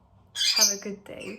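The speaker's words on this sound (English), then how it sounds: "I'm sorry about my birds." Pet birds squawk indoors, a shrill, sharp burst cut across by a person speaking a short phrase.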